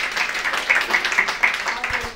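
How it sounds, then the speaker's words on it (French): An audience claps for a couple celebrating 40 years of marriage, a scattered, moderate patter of hands mixed with voices talking over it. "On peut les applaudir."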